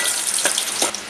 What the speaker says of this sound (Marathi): फोडणी चांगली लाल करूया आपण